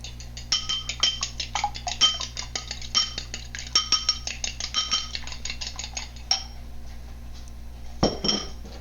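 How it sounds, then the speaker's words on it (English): A fork whisks eggs in a bowl with quick, rhythmic clinking taps against the rim, a steady run of light metallic ticks, followed by a louder bump near the end. "I'm going to take a fork and give it a good whisk"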